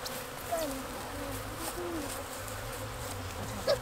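Honey bees buzz around a nuc hive, a soft continuous drone with a few faint higher whines flitting past, close and quiet throughout, with no talk.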